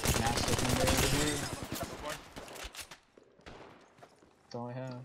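Rapid automatic gunfire and shots rattle through a combat fight in the video game Apex Legends, a dense loud burst that thins into scattered shots before a reload-like mechanical clatter.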